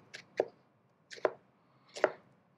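Three separate knife chops through an onion during a rainbow cut for calabacitas tacos, each a crisp close thud on a cutting board, evenly spaced with pauses between, no talking.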